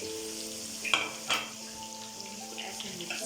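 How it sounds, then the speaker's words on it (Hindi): Garlic-ginger paste and cumin seeds sizzle in hot oil in a frying pan with a steady crackle, while a utensil scrapes and clinks against the pan twice near the start. "अब हमने एक फ्राई पैन के अंदर तेल लिया है। अब हम इसका लहसुन अदरक का पेस्ट ऐड करेंगे और साथ साथ ज़ीरा ऐड करेंगे"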